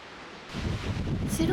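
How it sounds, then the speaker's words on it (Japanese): Strong wind buffets a coastal walkway in Nishi-Izu, rushing into a loud, roaring gust that batters the microphone partway through, with a faint voice briefly surfacing near the end. "油断すると風に飛ばされちゃいそうなので気合い入れて歩きます"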